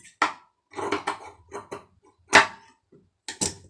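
Scissors trim excess cloth from a stitched fabric band during a beginner tailoring lesson, giving about half a dozen crisp, close snips in an uneven rhythm with short silences between.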